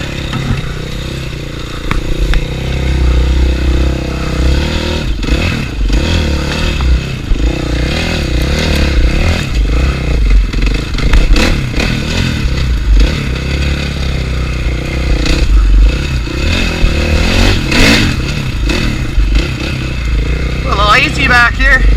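Motorcycle ridden after sitting for six months, its engine running steadily with revs rising and falling, loud and close, under a rider's talk.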